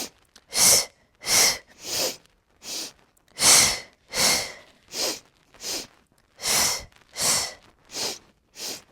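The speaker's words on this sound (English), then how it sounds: "big breath in, exhale, flex, then we pulse" A Pilates class with forceful breathing: about a dozen strong, rhythmic breaths, evenly spaced and close to the listener, with no talk between them.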